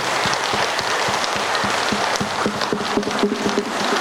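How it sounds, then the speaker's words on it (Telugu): Dense, steady clapping from a crowd honouring the masters at the Navanatha Siddheshwara pyramid on Siddhulagutta in Armoor during Guru Purnima celebrations, sustained and fairly loud throughout with no talk over it. "ఇక్కడికి వచ్చినటువంటి మాస్టర్లందరికీ గట్టిగా చప్పట్లు"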